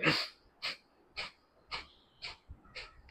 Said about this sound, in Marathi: श्वास स्ट्रोकने बाहेर सोडायचा.